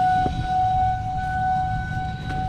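A town civil defense siren sounds at noon, a steady, sustained wail with a constant pitch held throughout, loud and fairly near, heard alone outdoors.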